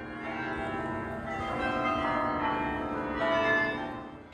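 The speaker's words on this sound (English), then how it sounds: "its bells rang out the hours." Bells ring out from the tall medieval belfry in Bruges, Belgium, their sustained ringing tones overlapping and swelling in loudness, heard from a moderate distance with no voices.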